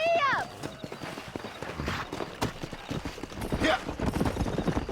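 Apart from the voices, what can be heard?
horse hooves clip-clopping in video game Red Dead Redemption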